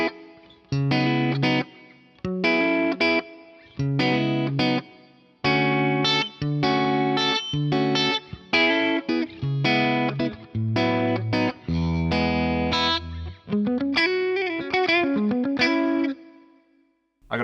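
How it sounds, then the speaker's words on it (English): An electric guitar plays short repeated chord phrases with pauses between, the notes washed in reverb from a Roland SRV 2000 on a room setting and a shimmering effect, ending on a sustained chord. "I'm using the Roland SRV 2000 as a reverb at the moment."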